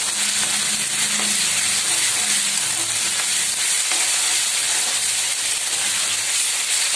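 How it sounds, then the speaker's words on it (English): Ginger garlic paste fries in a pan with a steady, close sizzle and hiss, stirred now and then, continuous throughout with no talking. "Fry it to golden brown color."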